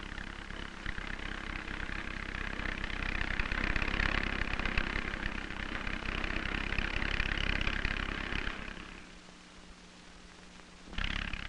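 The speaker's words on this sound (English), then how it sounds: "The corn binder is pulled by the tractor here" A tractor engine pulling a corn binder through a field, a steady mid-pitched droning hum that runs continuously, dips briefly near the end, then picks up again, with no voices.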